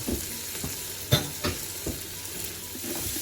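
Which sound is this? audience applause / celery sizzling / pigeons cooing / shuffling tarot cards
celery sizzling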